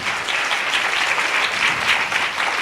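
A congregation applauds during a Holy Communion Sunday church service, a dense, loud burst of many hands clapping at once, steady and unbroken throughout.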